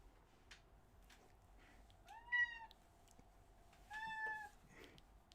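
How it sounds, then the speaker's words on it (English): A chatty house cat gives two distinct meows a couple of seconds apart, faint and close in a quiet indoor room. "He is the chattiest of my cats."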